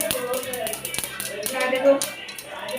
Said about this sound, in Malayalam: കടുക് പൊട്ടി ഇനി നമുക്ക് ചെയ്യാം